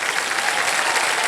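Studio audience applause on the KBC quiz show set, a steady, dense clatter of many clapping hands, loud and continuous throughout with no voices over it.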